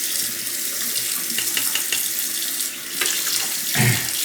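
Tap water runs steadily into a sink while a Shapton whetstone is rinsed under it, a constant close splashing hiss with small shifts as the stone moves through the stream.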